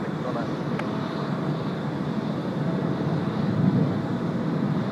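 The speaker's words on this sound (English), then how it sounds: "Look at this 76 just going out there off runway 16 left." A Boeing 747 airliner departs runway 16L at Tokyo Haneda, its engines giving a steady, broad roar that holds through the whole stretch and swells slightly toward the end, with wind buffeting the microphone.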